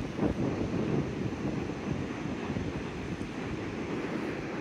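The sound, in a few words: wind blowing at the shore while fishing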